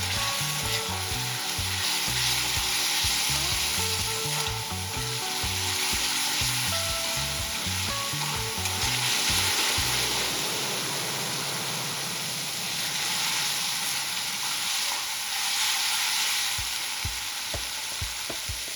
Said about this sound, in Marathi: आता या स्टेजला थोडंसं पाणी ॲड करायचं म्हणजे आपला ठेचा अजून व्यवस्थित परतला जाईल